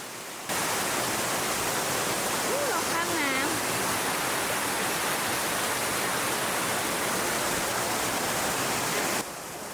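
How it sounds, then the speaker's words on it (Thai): Continuous broadband rushing of a waterfall at Mae Kampong village, Chiang Mai, Thailand, steady and loud throughout, with a faint warbling tone briefly audible near the start. "ที่หมู่บ้านแม่กำปอง จะได้ยินเสียงน้ำตกไหลอยู่ตลอดเวลา"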